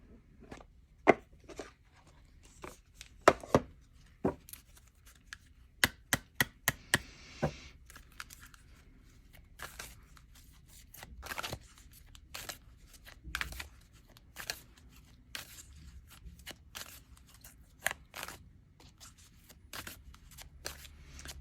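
Oracle cards being shuffled and pulled by hand, a quiet run of soft riffles, taps and sharp flicks, including a quick burst of clicks partway through, close and alone.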